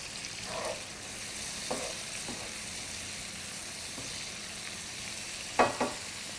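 About a quarter cup of fish stock hitting a hot pan while cooking crab and crawfish cakes, producing a steady hiss of sizzling with faint stirring scrapes and a couple of sharp spits near the end.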